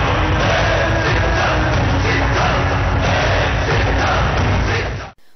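Large outdoor political rally crowd at a YSRCP Siddham campaign meeting for the 2024 Andhra Pradesh elections, a dense, loud wall of cheering and clapping that roars steadily throughout before cutting off abruptly near the end.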